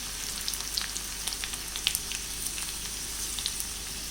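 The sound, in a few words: chopped ginger and garlic frying with mustard seeds, curry leaves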